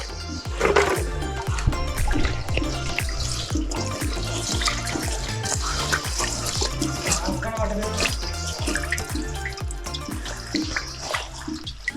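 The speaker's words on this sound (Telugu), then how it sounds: "అక్కడ నుంచి చాలా ఫాస్ట్ అయితే వస్తున్నాయి వాటర్" Loud, steady rush of water gushing from a hole in an old well, pouring and splashing continuously, a dense churning flow with a low rhythmic pulsing underneath.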